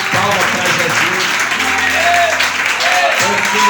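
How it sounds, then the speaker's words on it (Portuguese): A church congregation claps loudly and continuously during a worship service, with voices audible beneath the dense clapping. "dá uma salva de palmas para Jesus"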